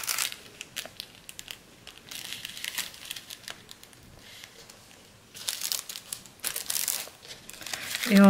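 A plastic sachet crinkles as it is slipped into a scrapbook pocket letter page, bursts of close crackling in bouts with quiet gaps, a voice speaking in places.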